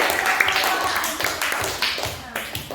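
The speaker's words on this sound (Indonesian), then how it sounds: "tepuk tangan dulu sama teman-teman." Children in an Indonesian classroom clap their hands together after a quiz answer, a burst of uneven, overlapping claps at close range with voices talking over them.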